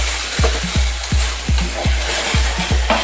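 Spices sizzle with sour yogurt, cashew and poppy-seed paste in a pan for a Bengali chhana kofta kalia gravy, under a steady loud hiss with about eight regular scraping stirs of a spatula.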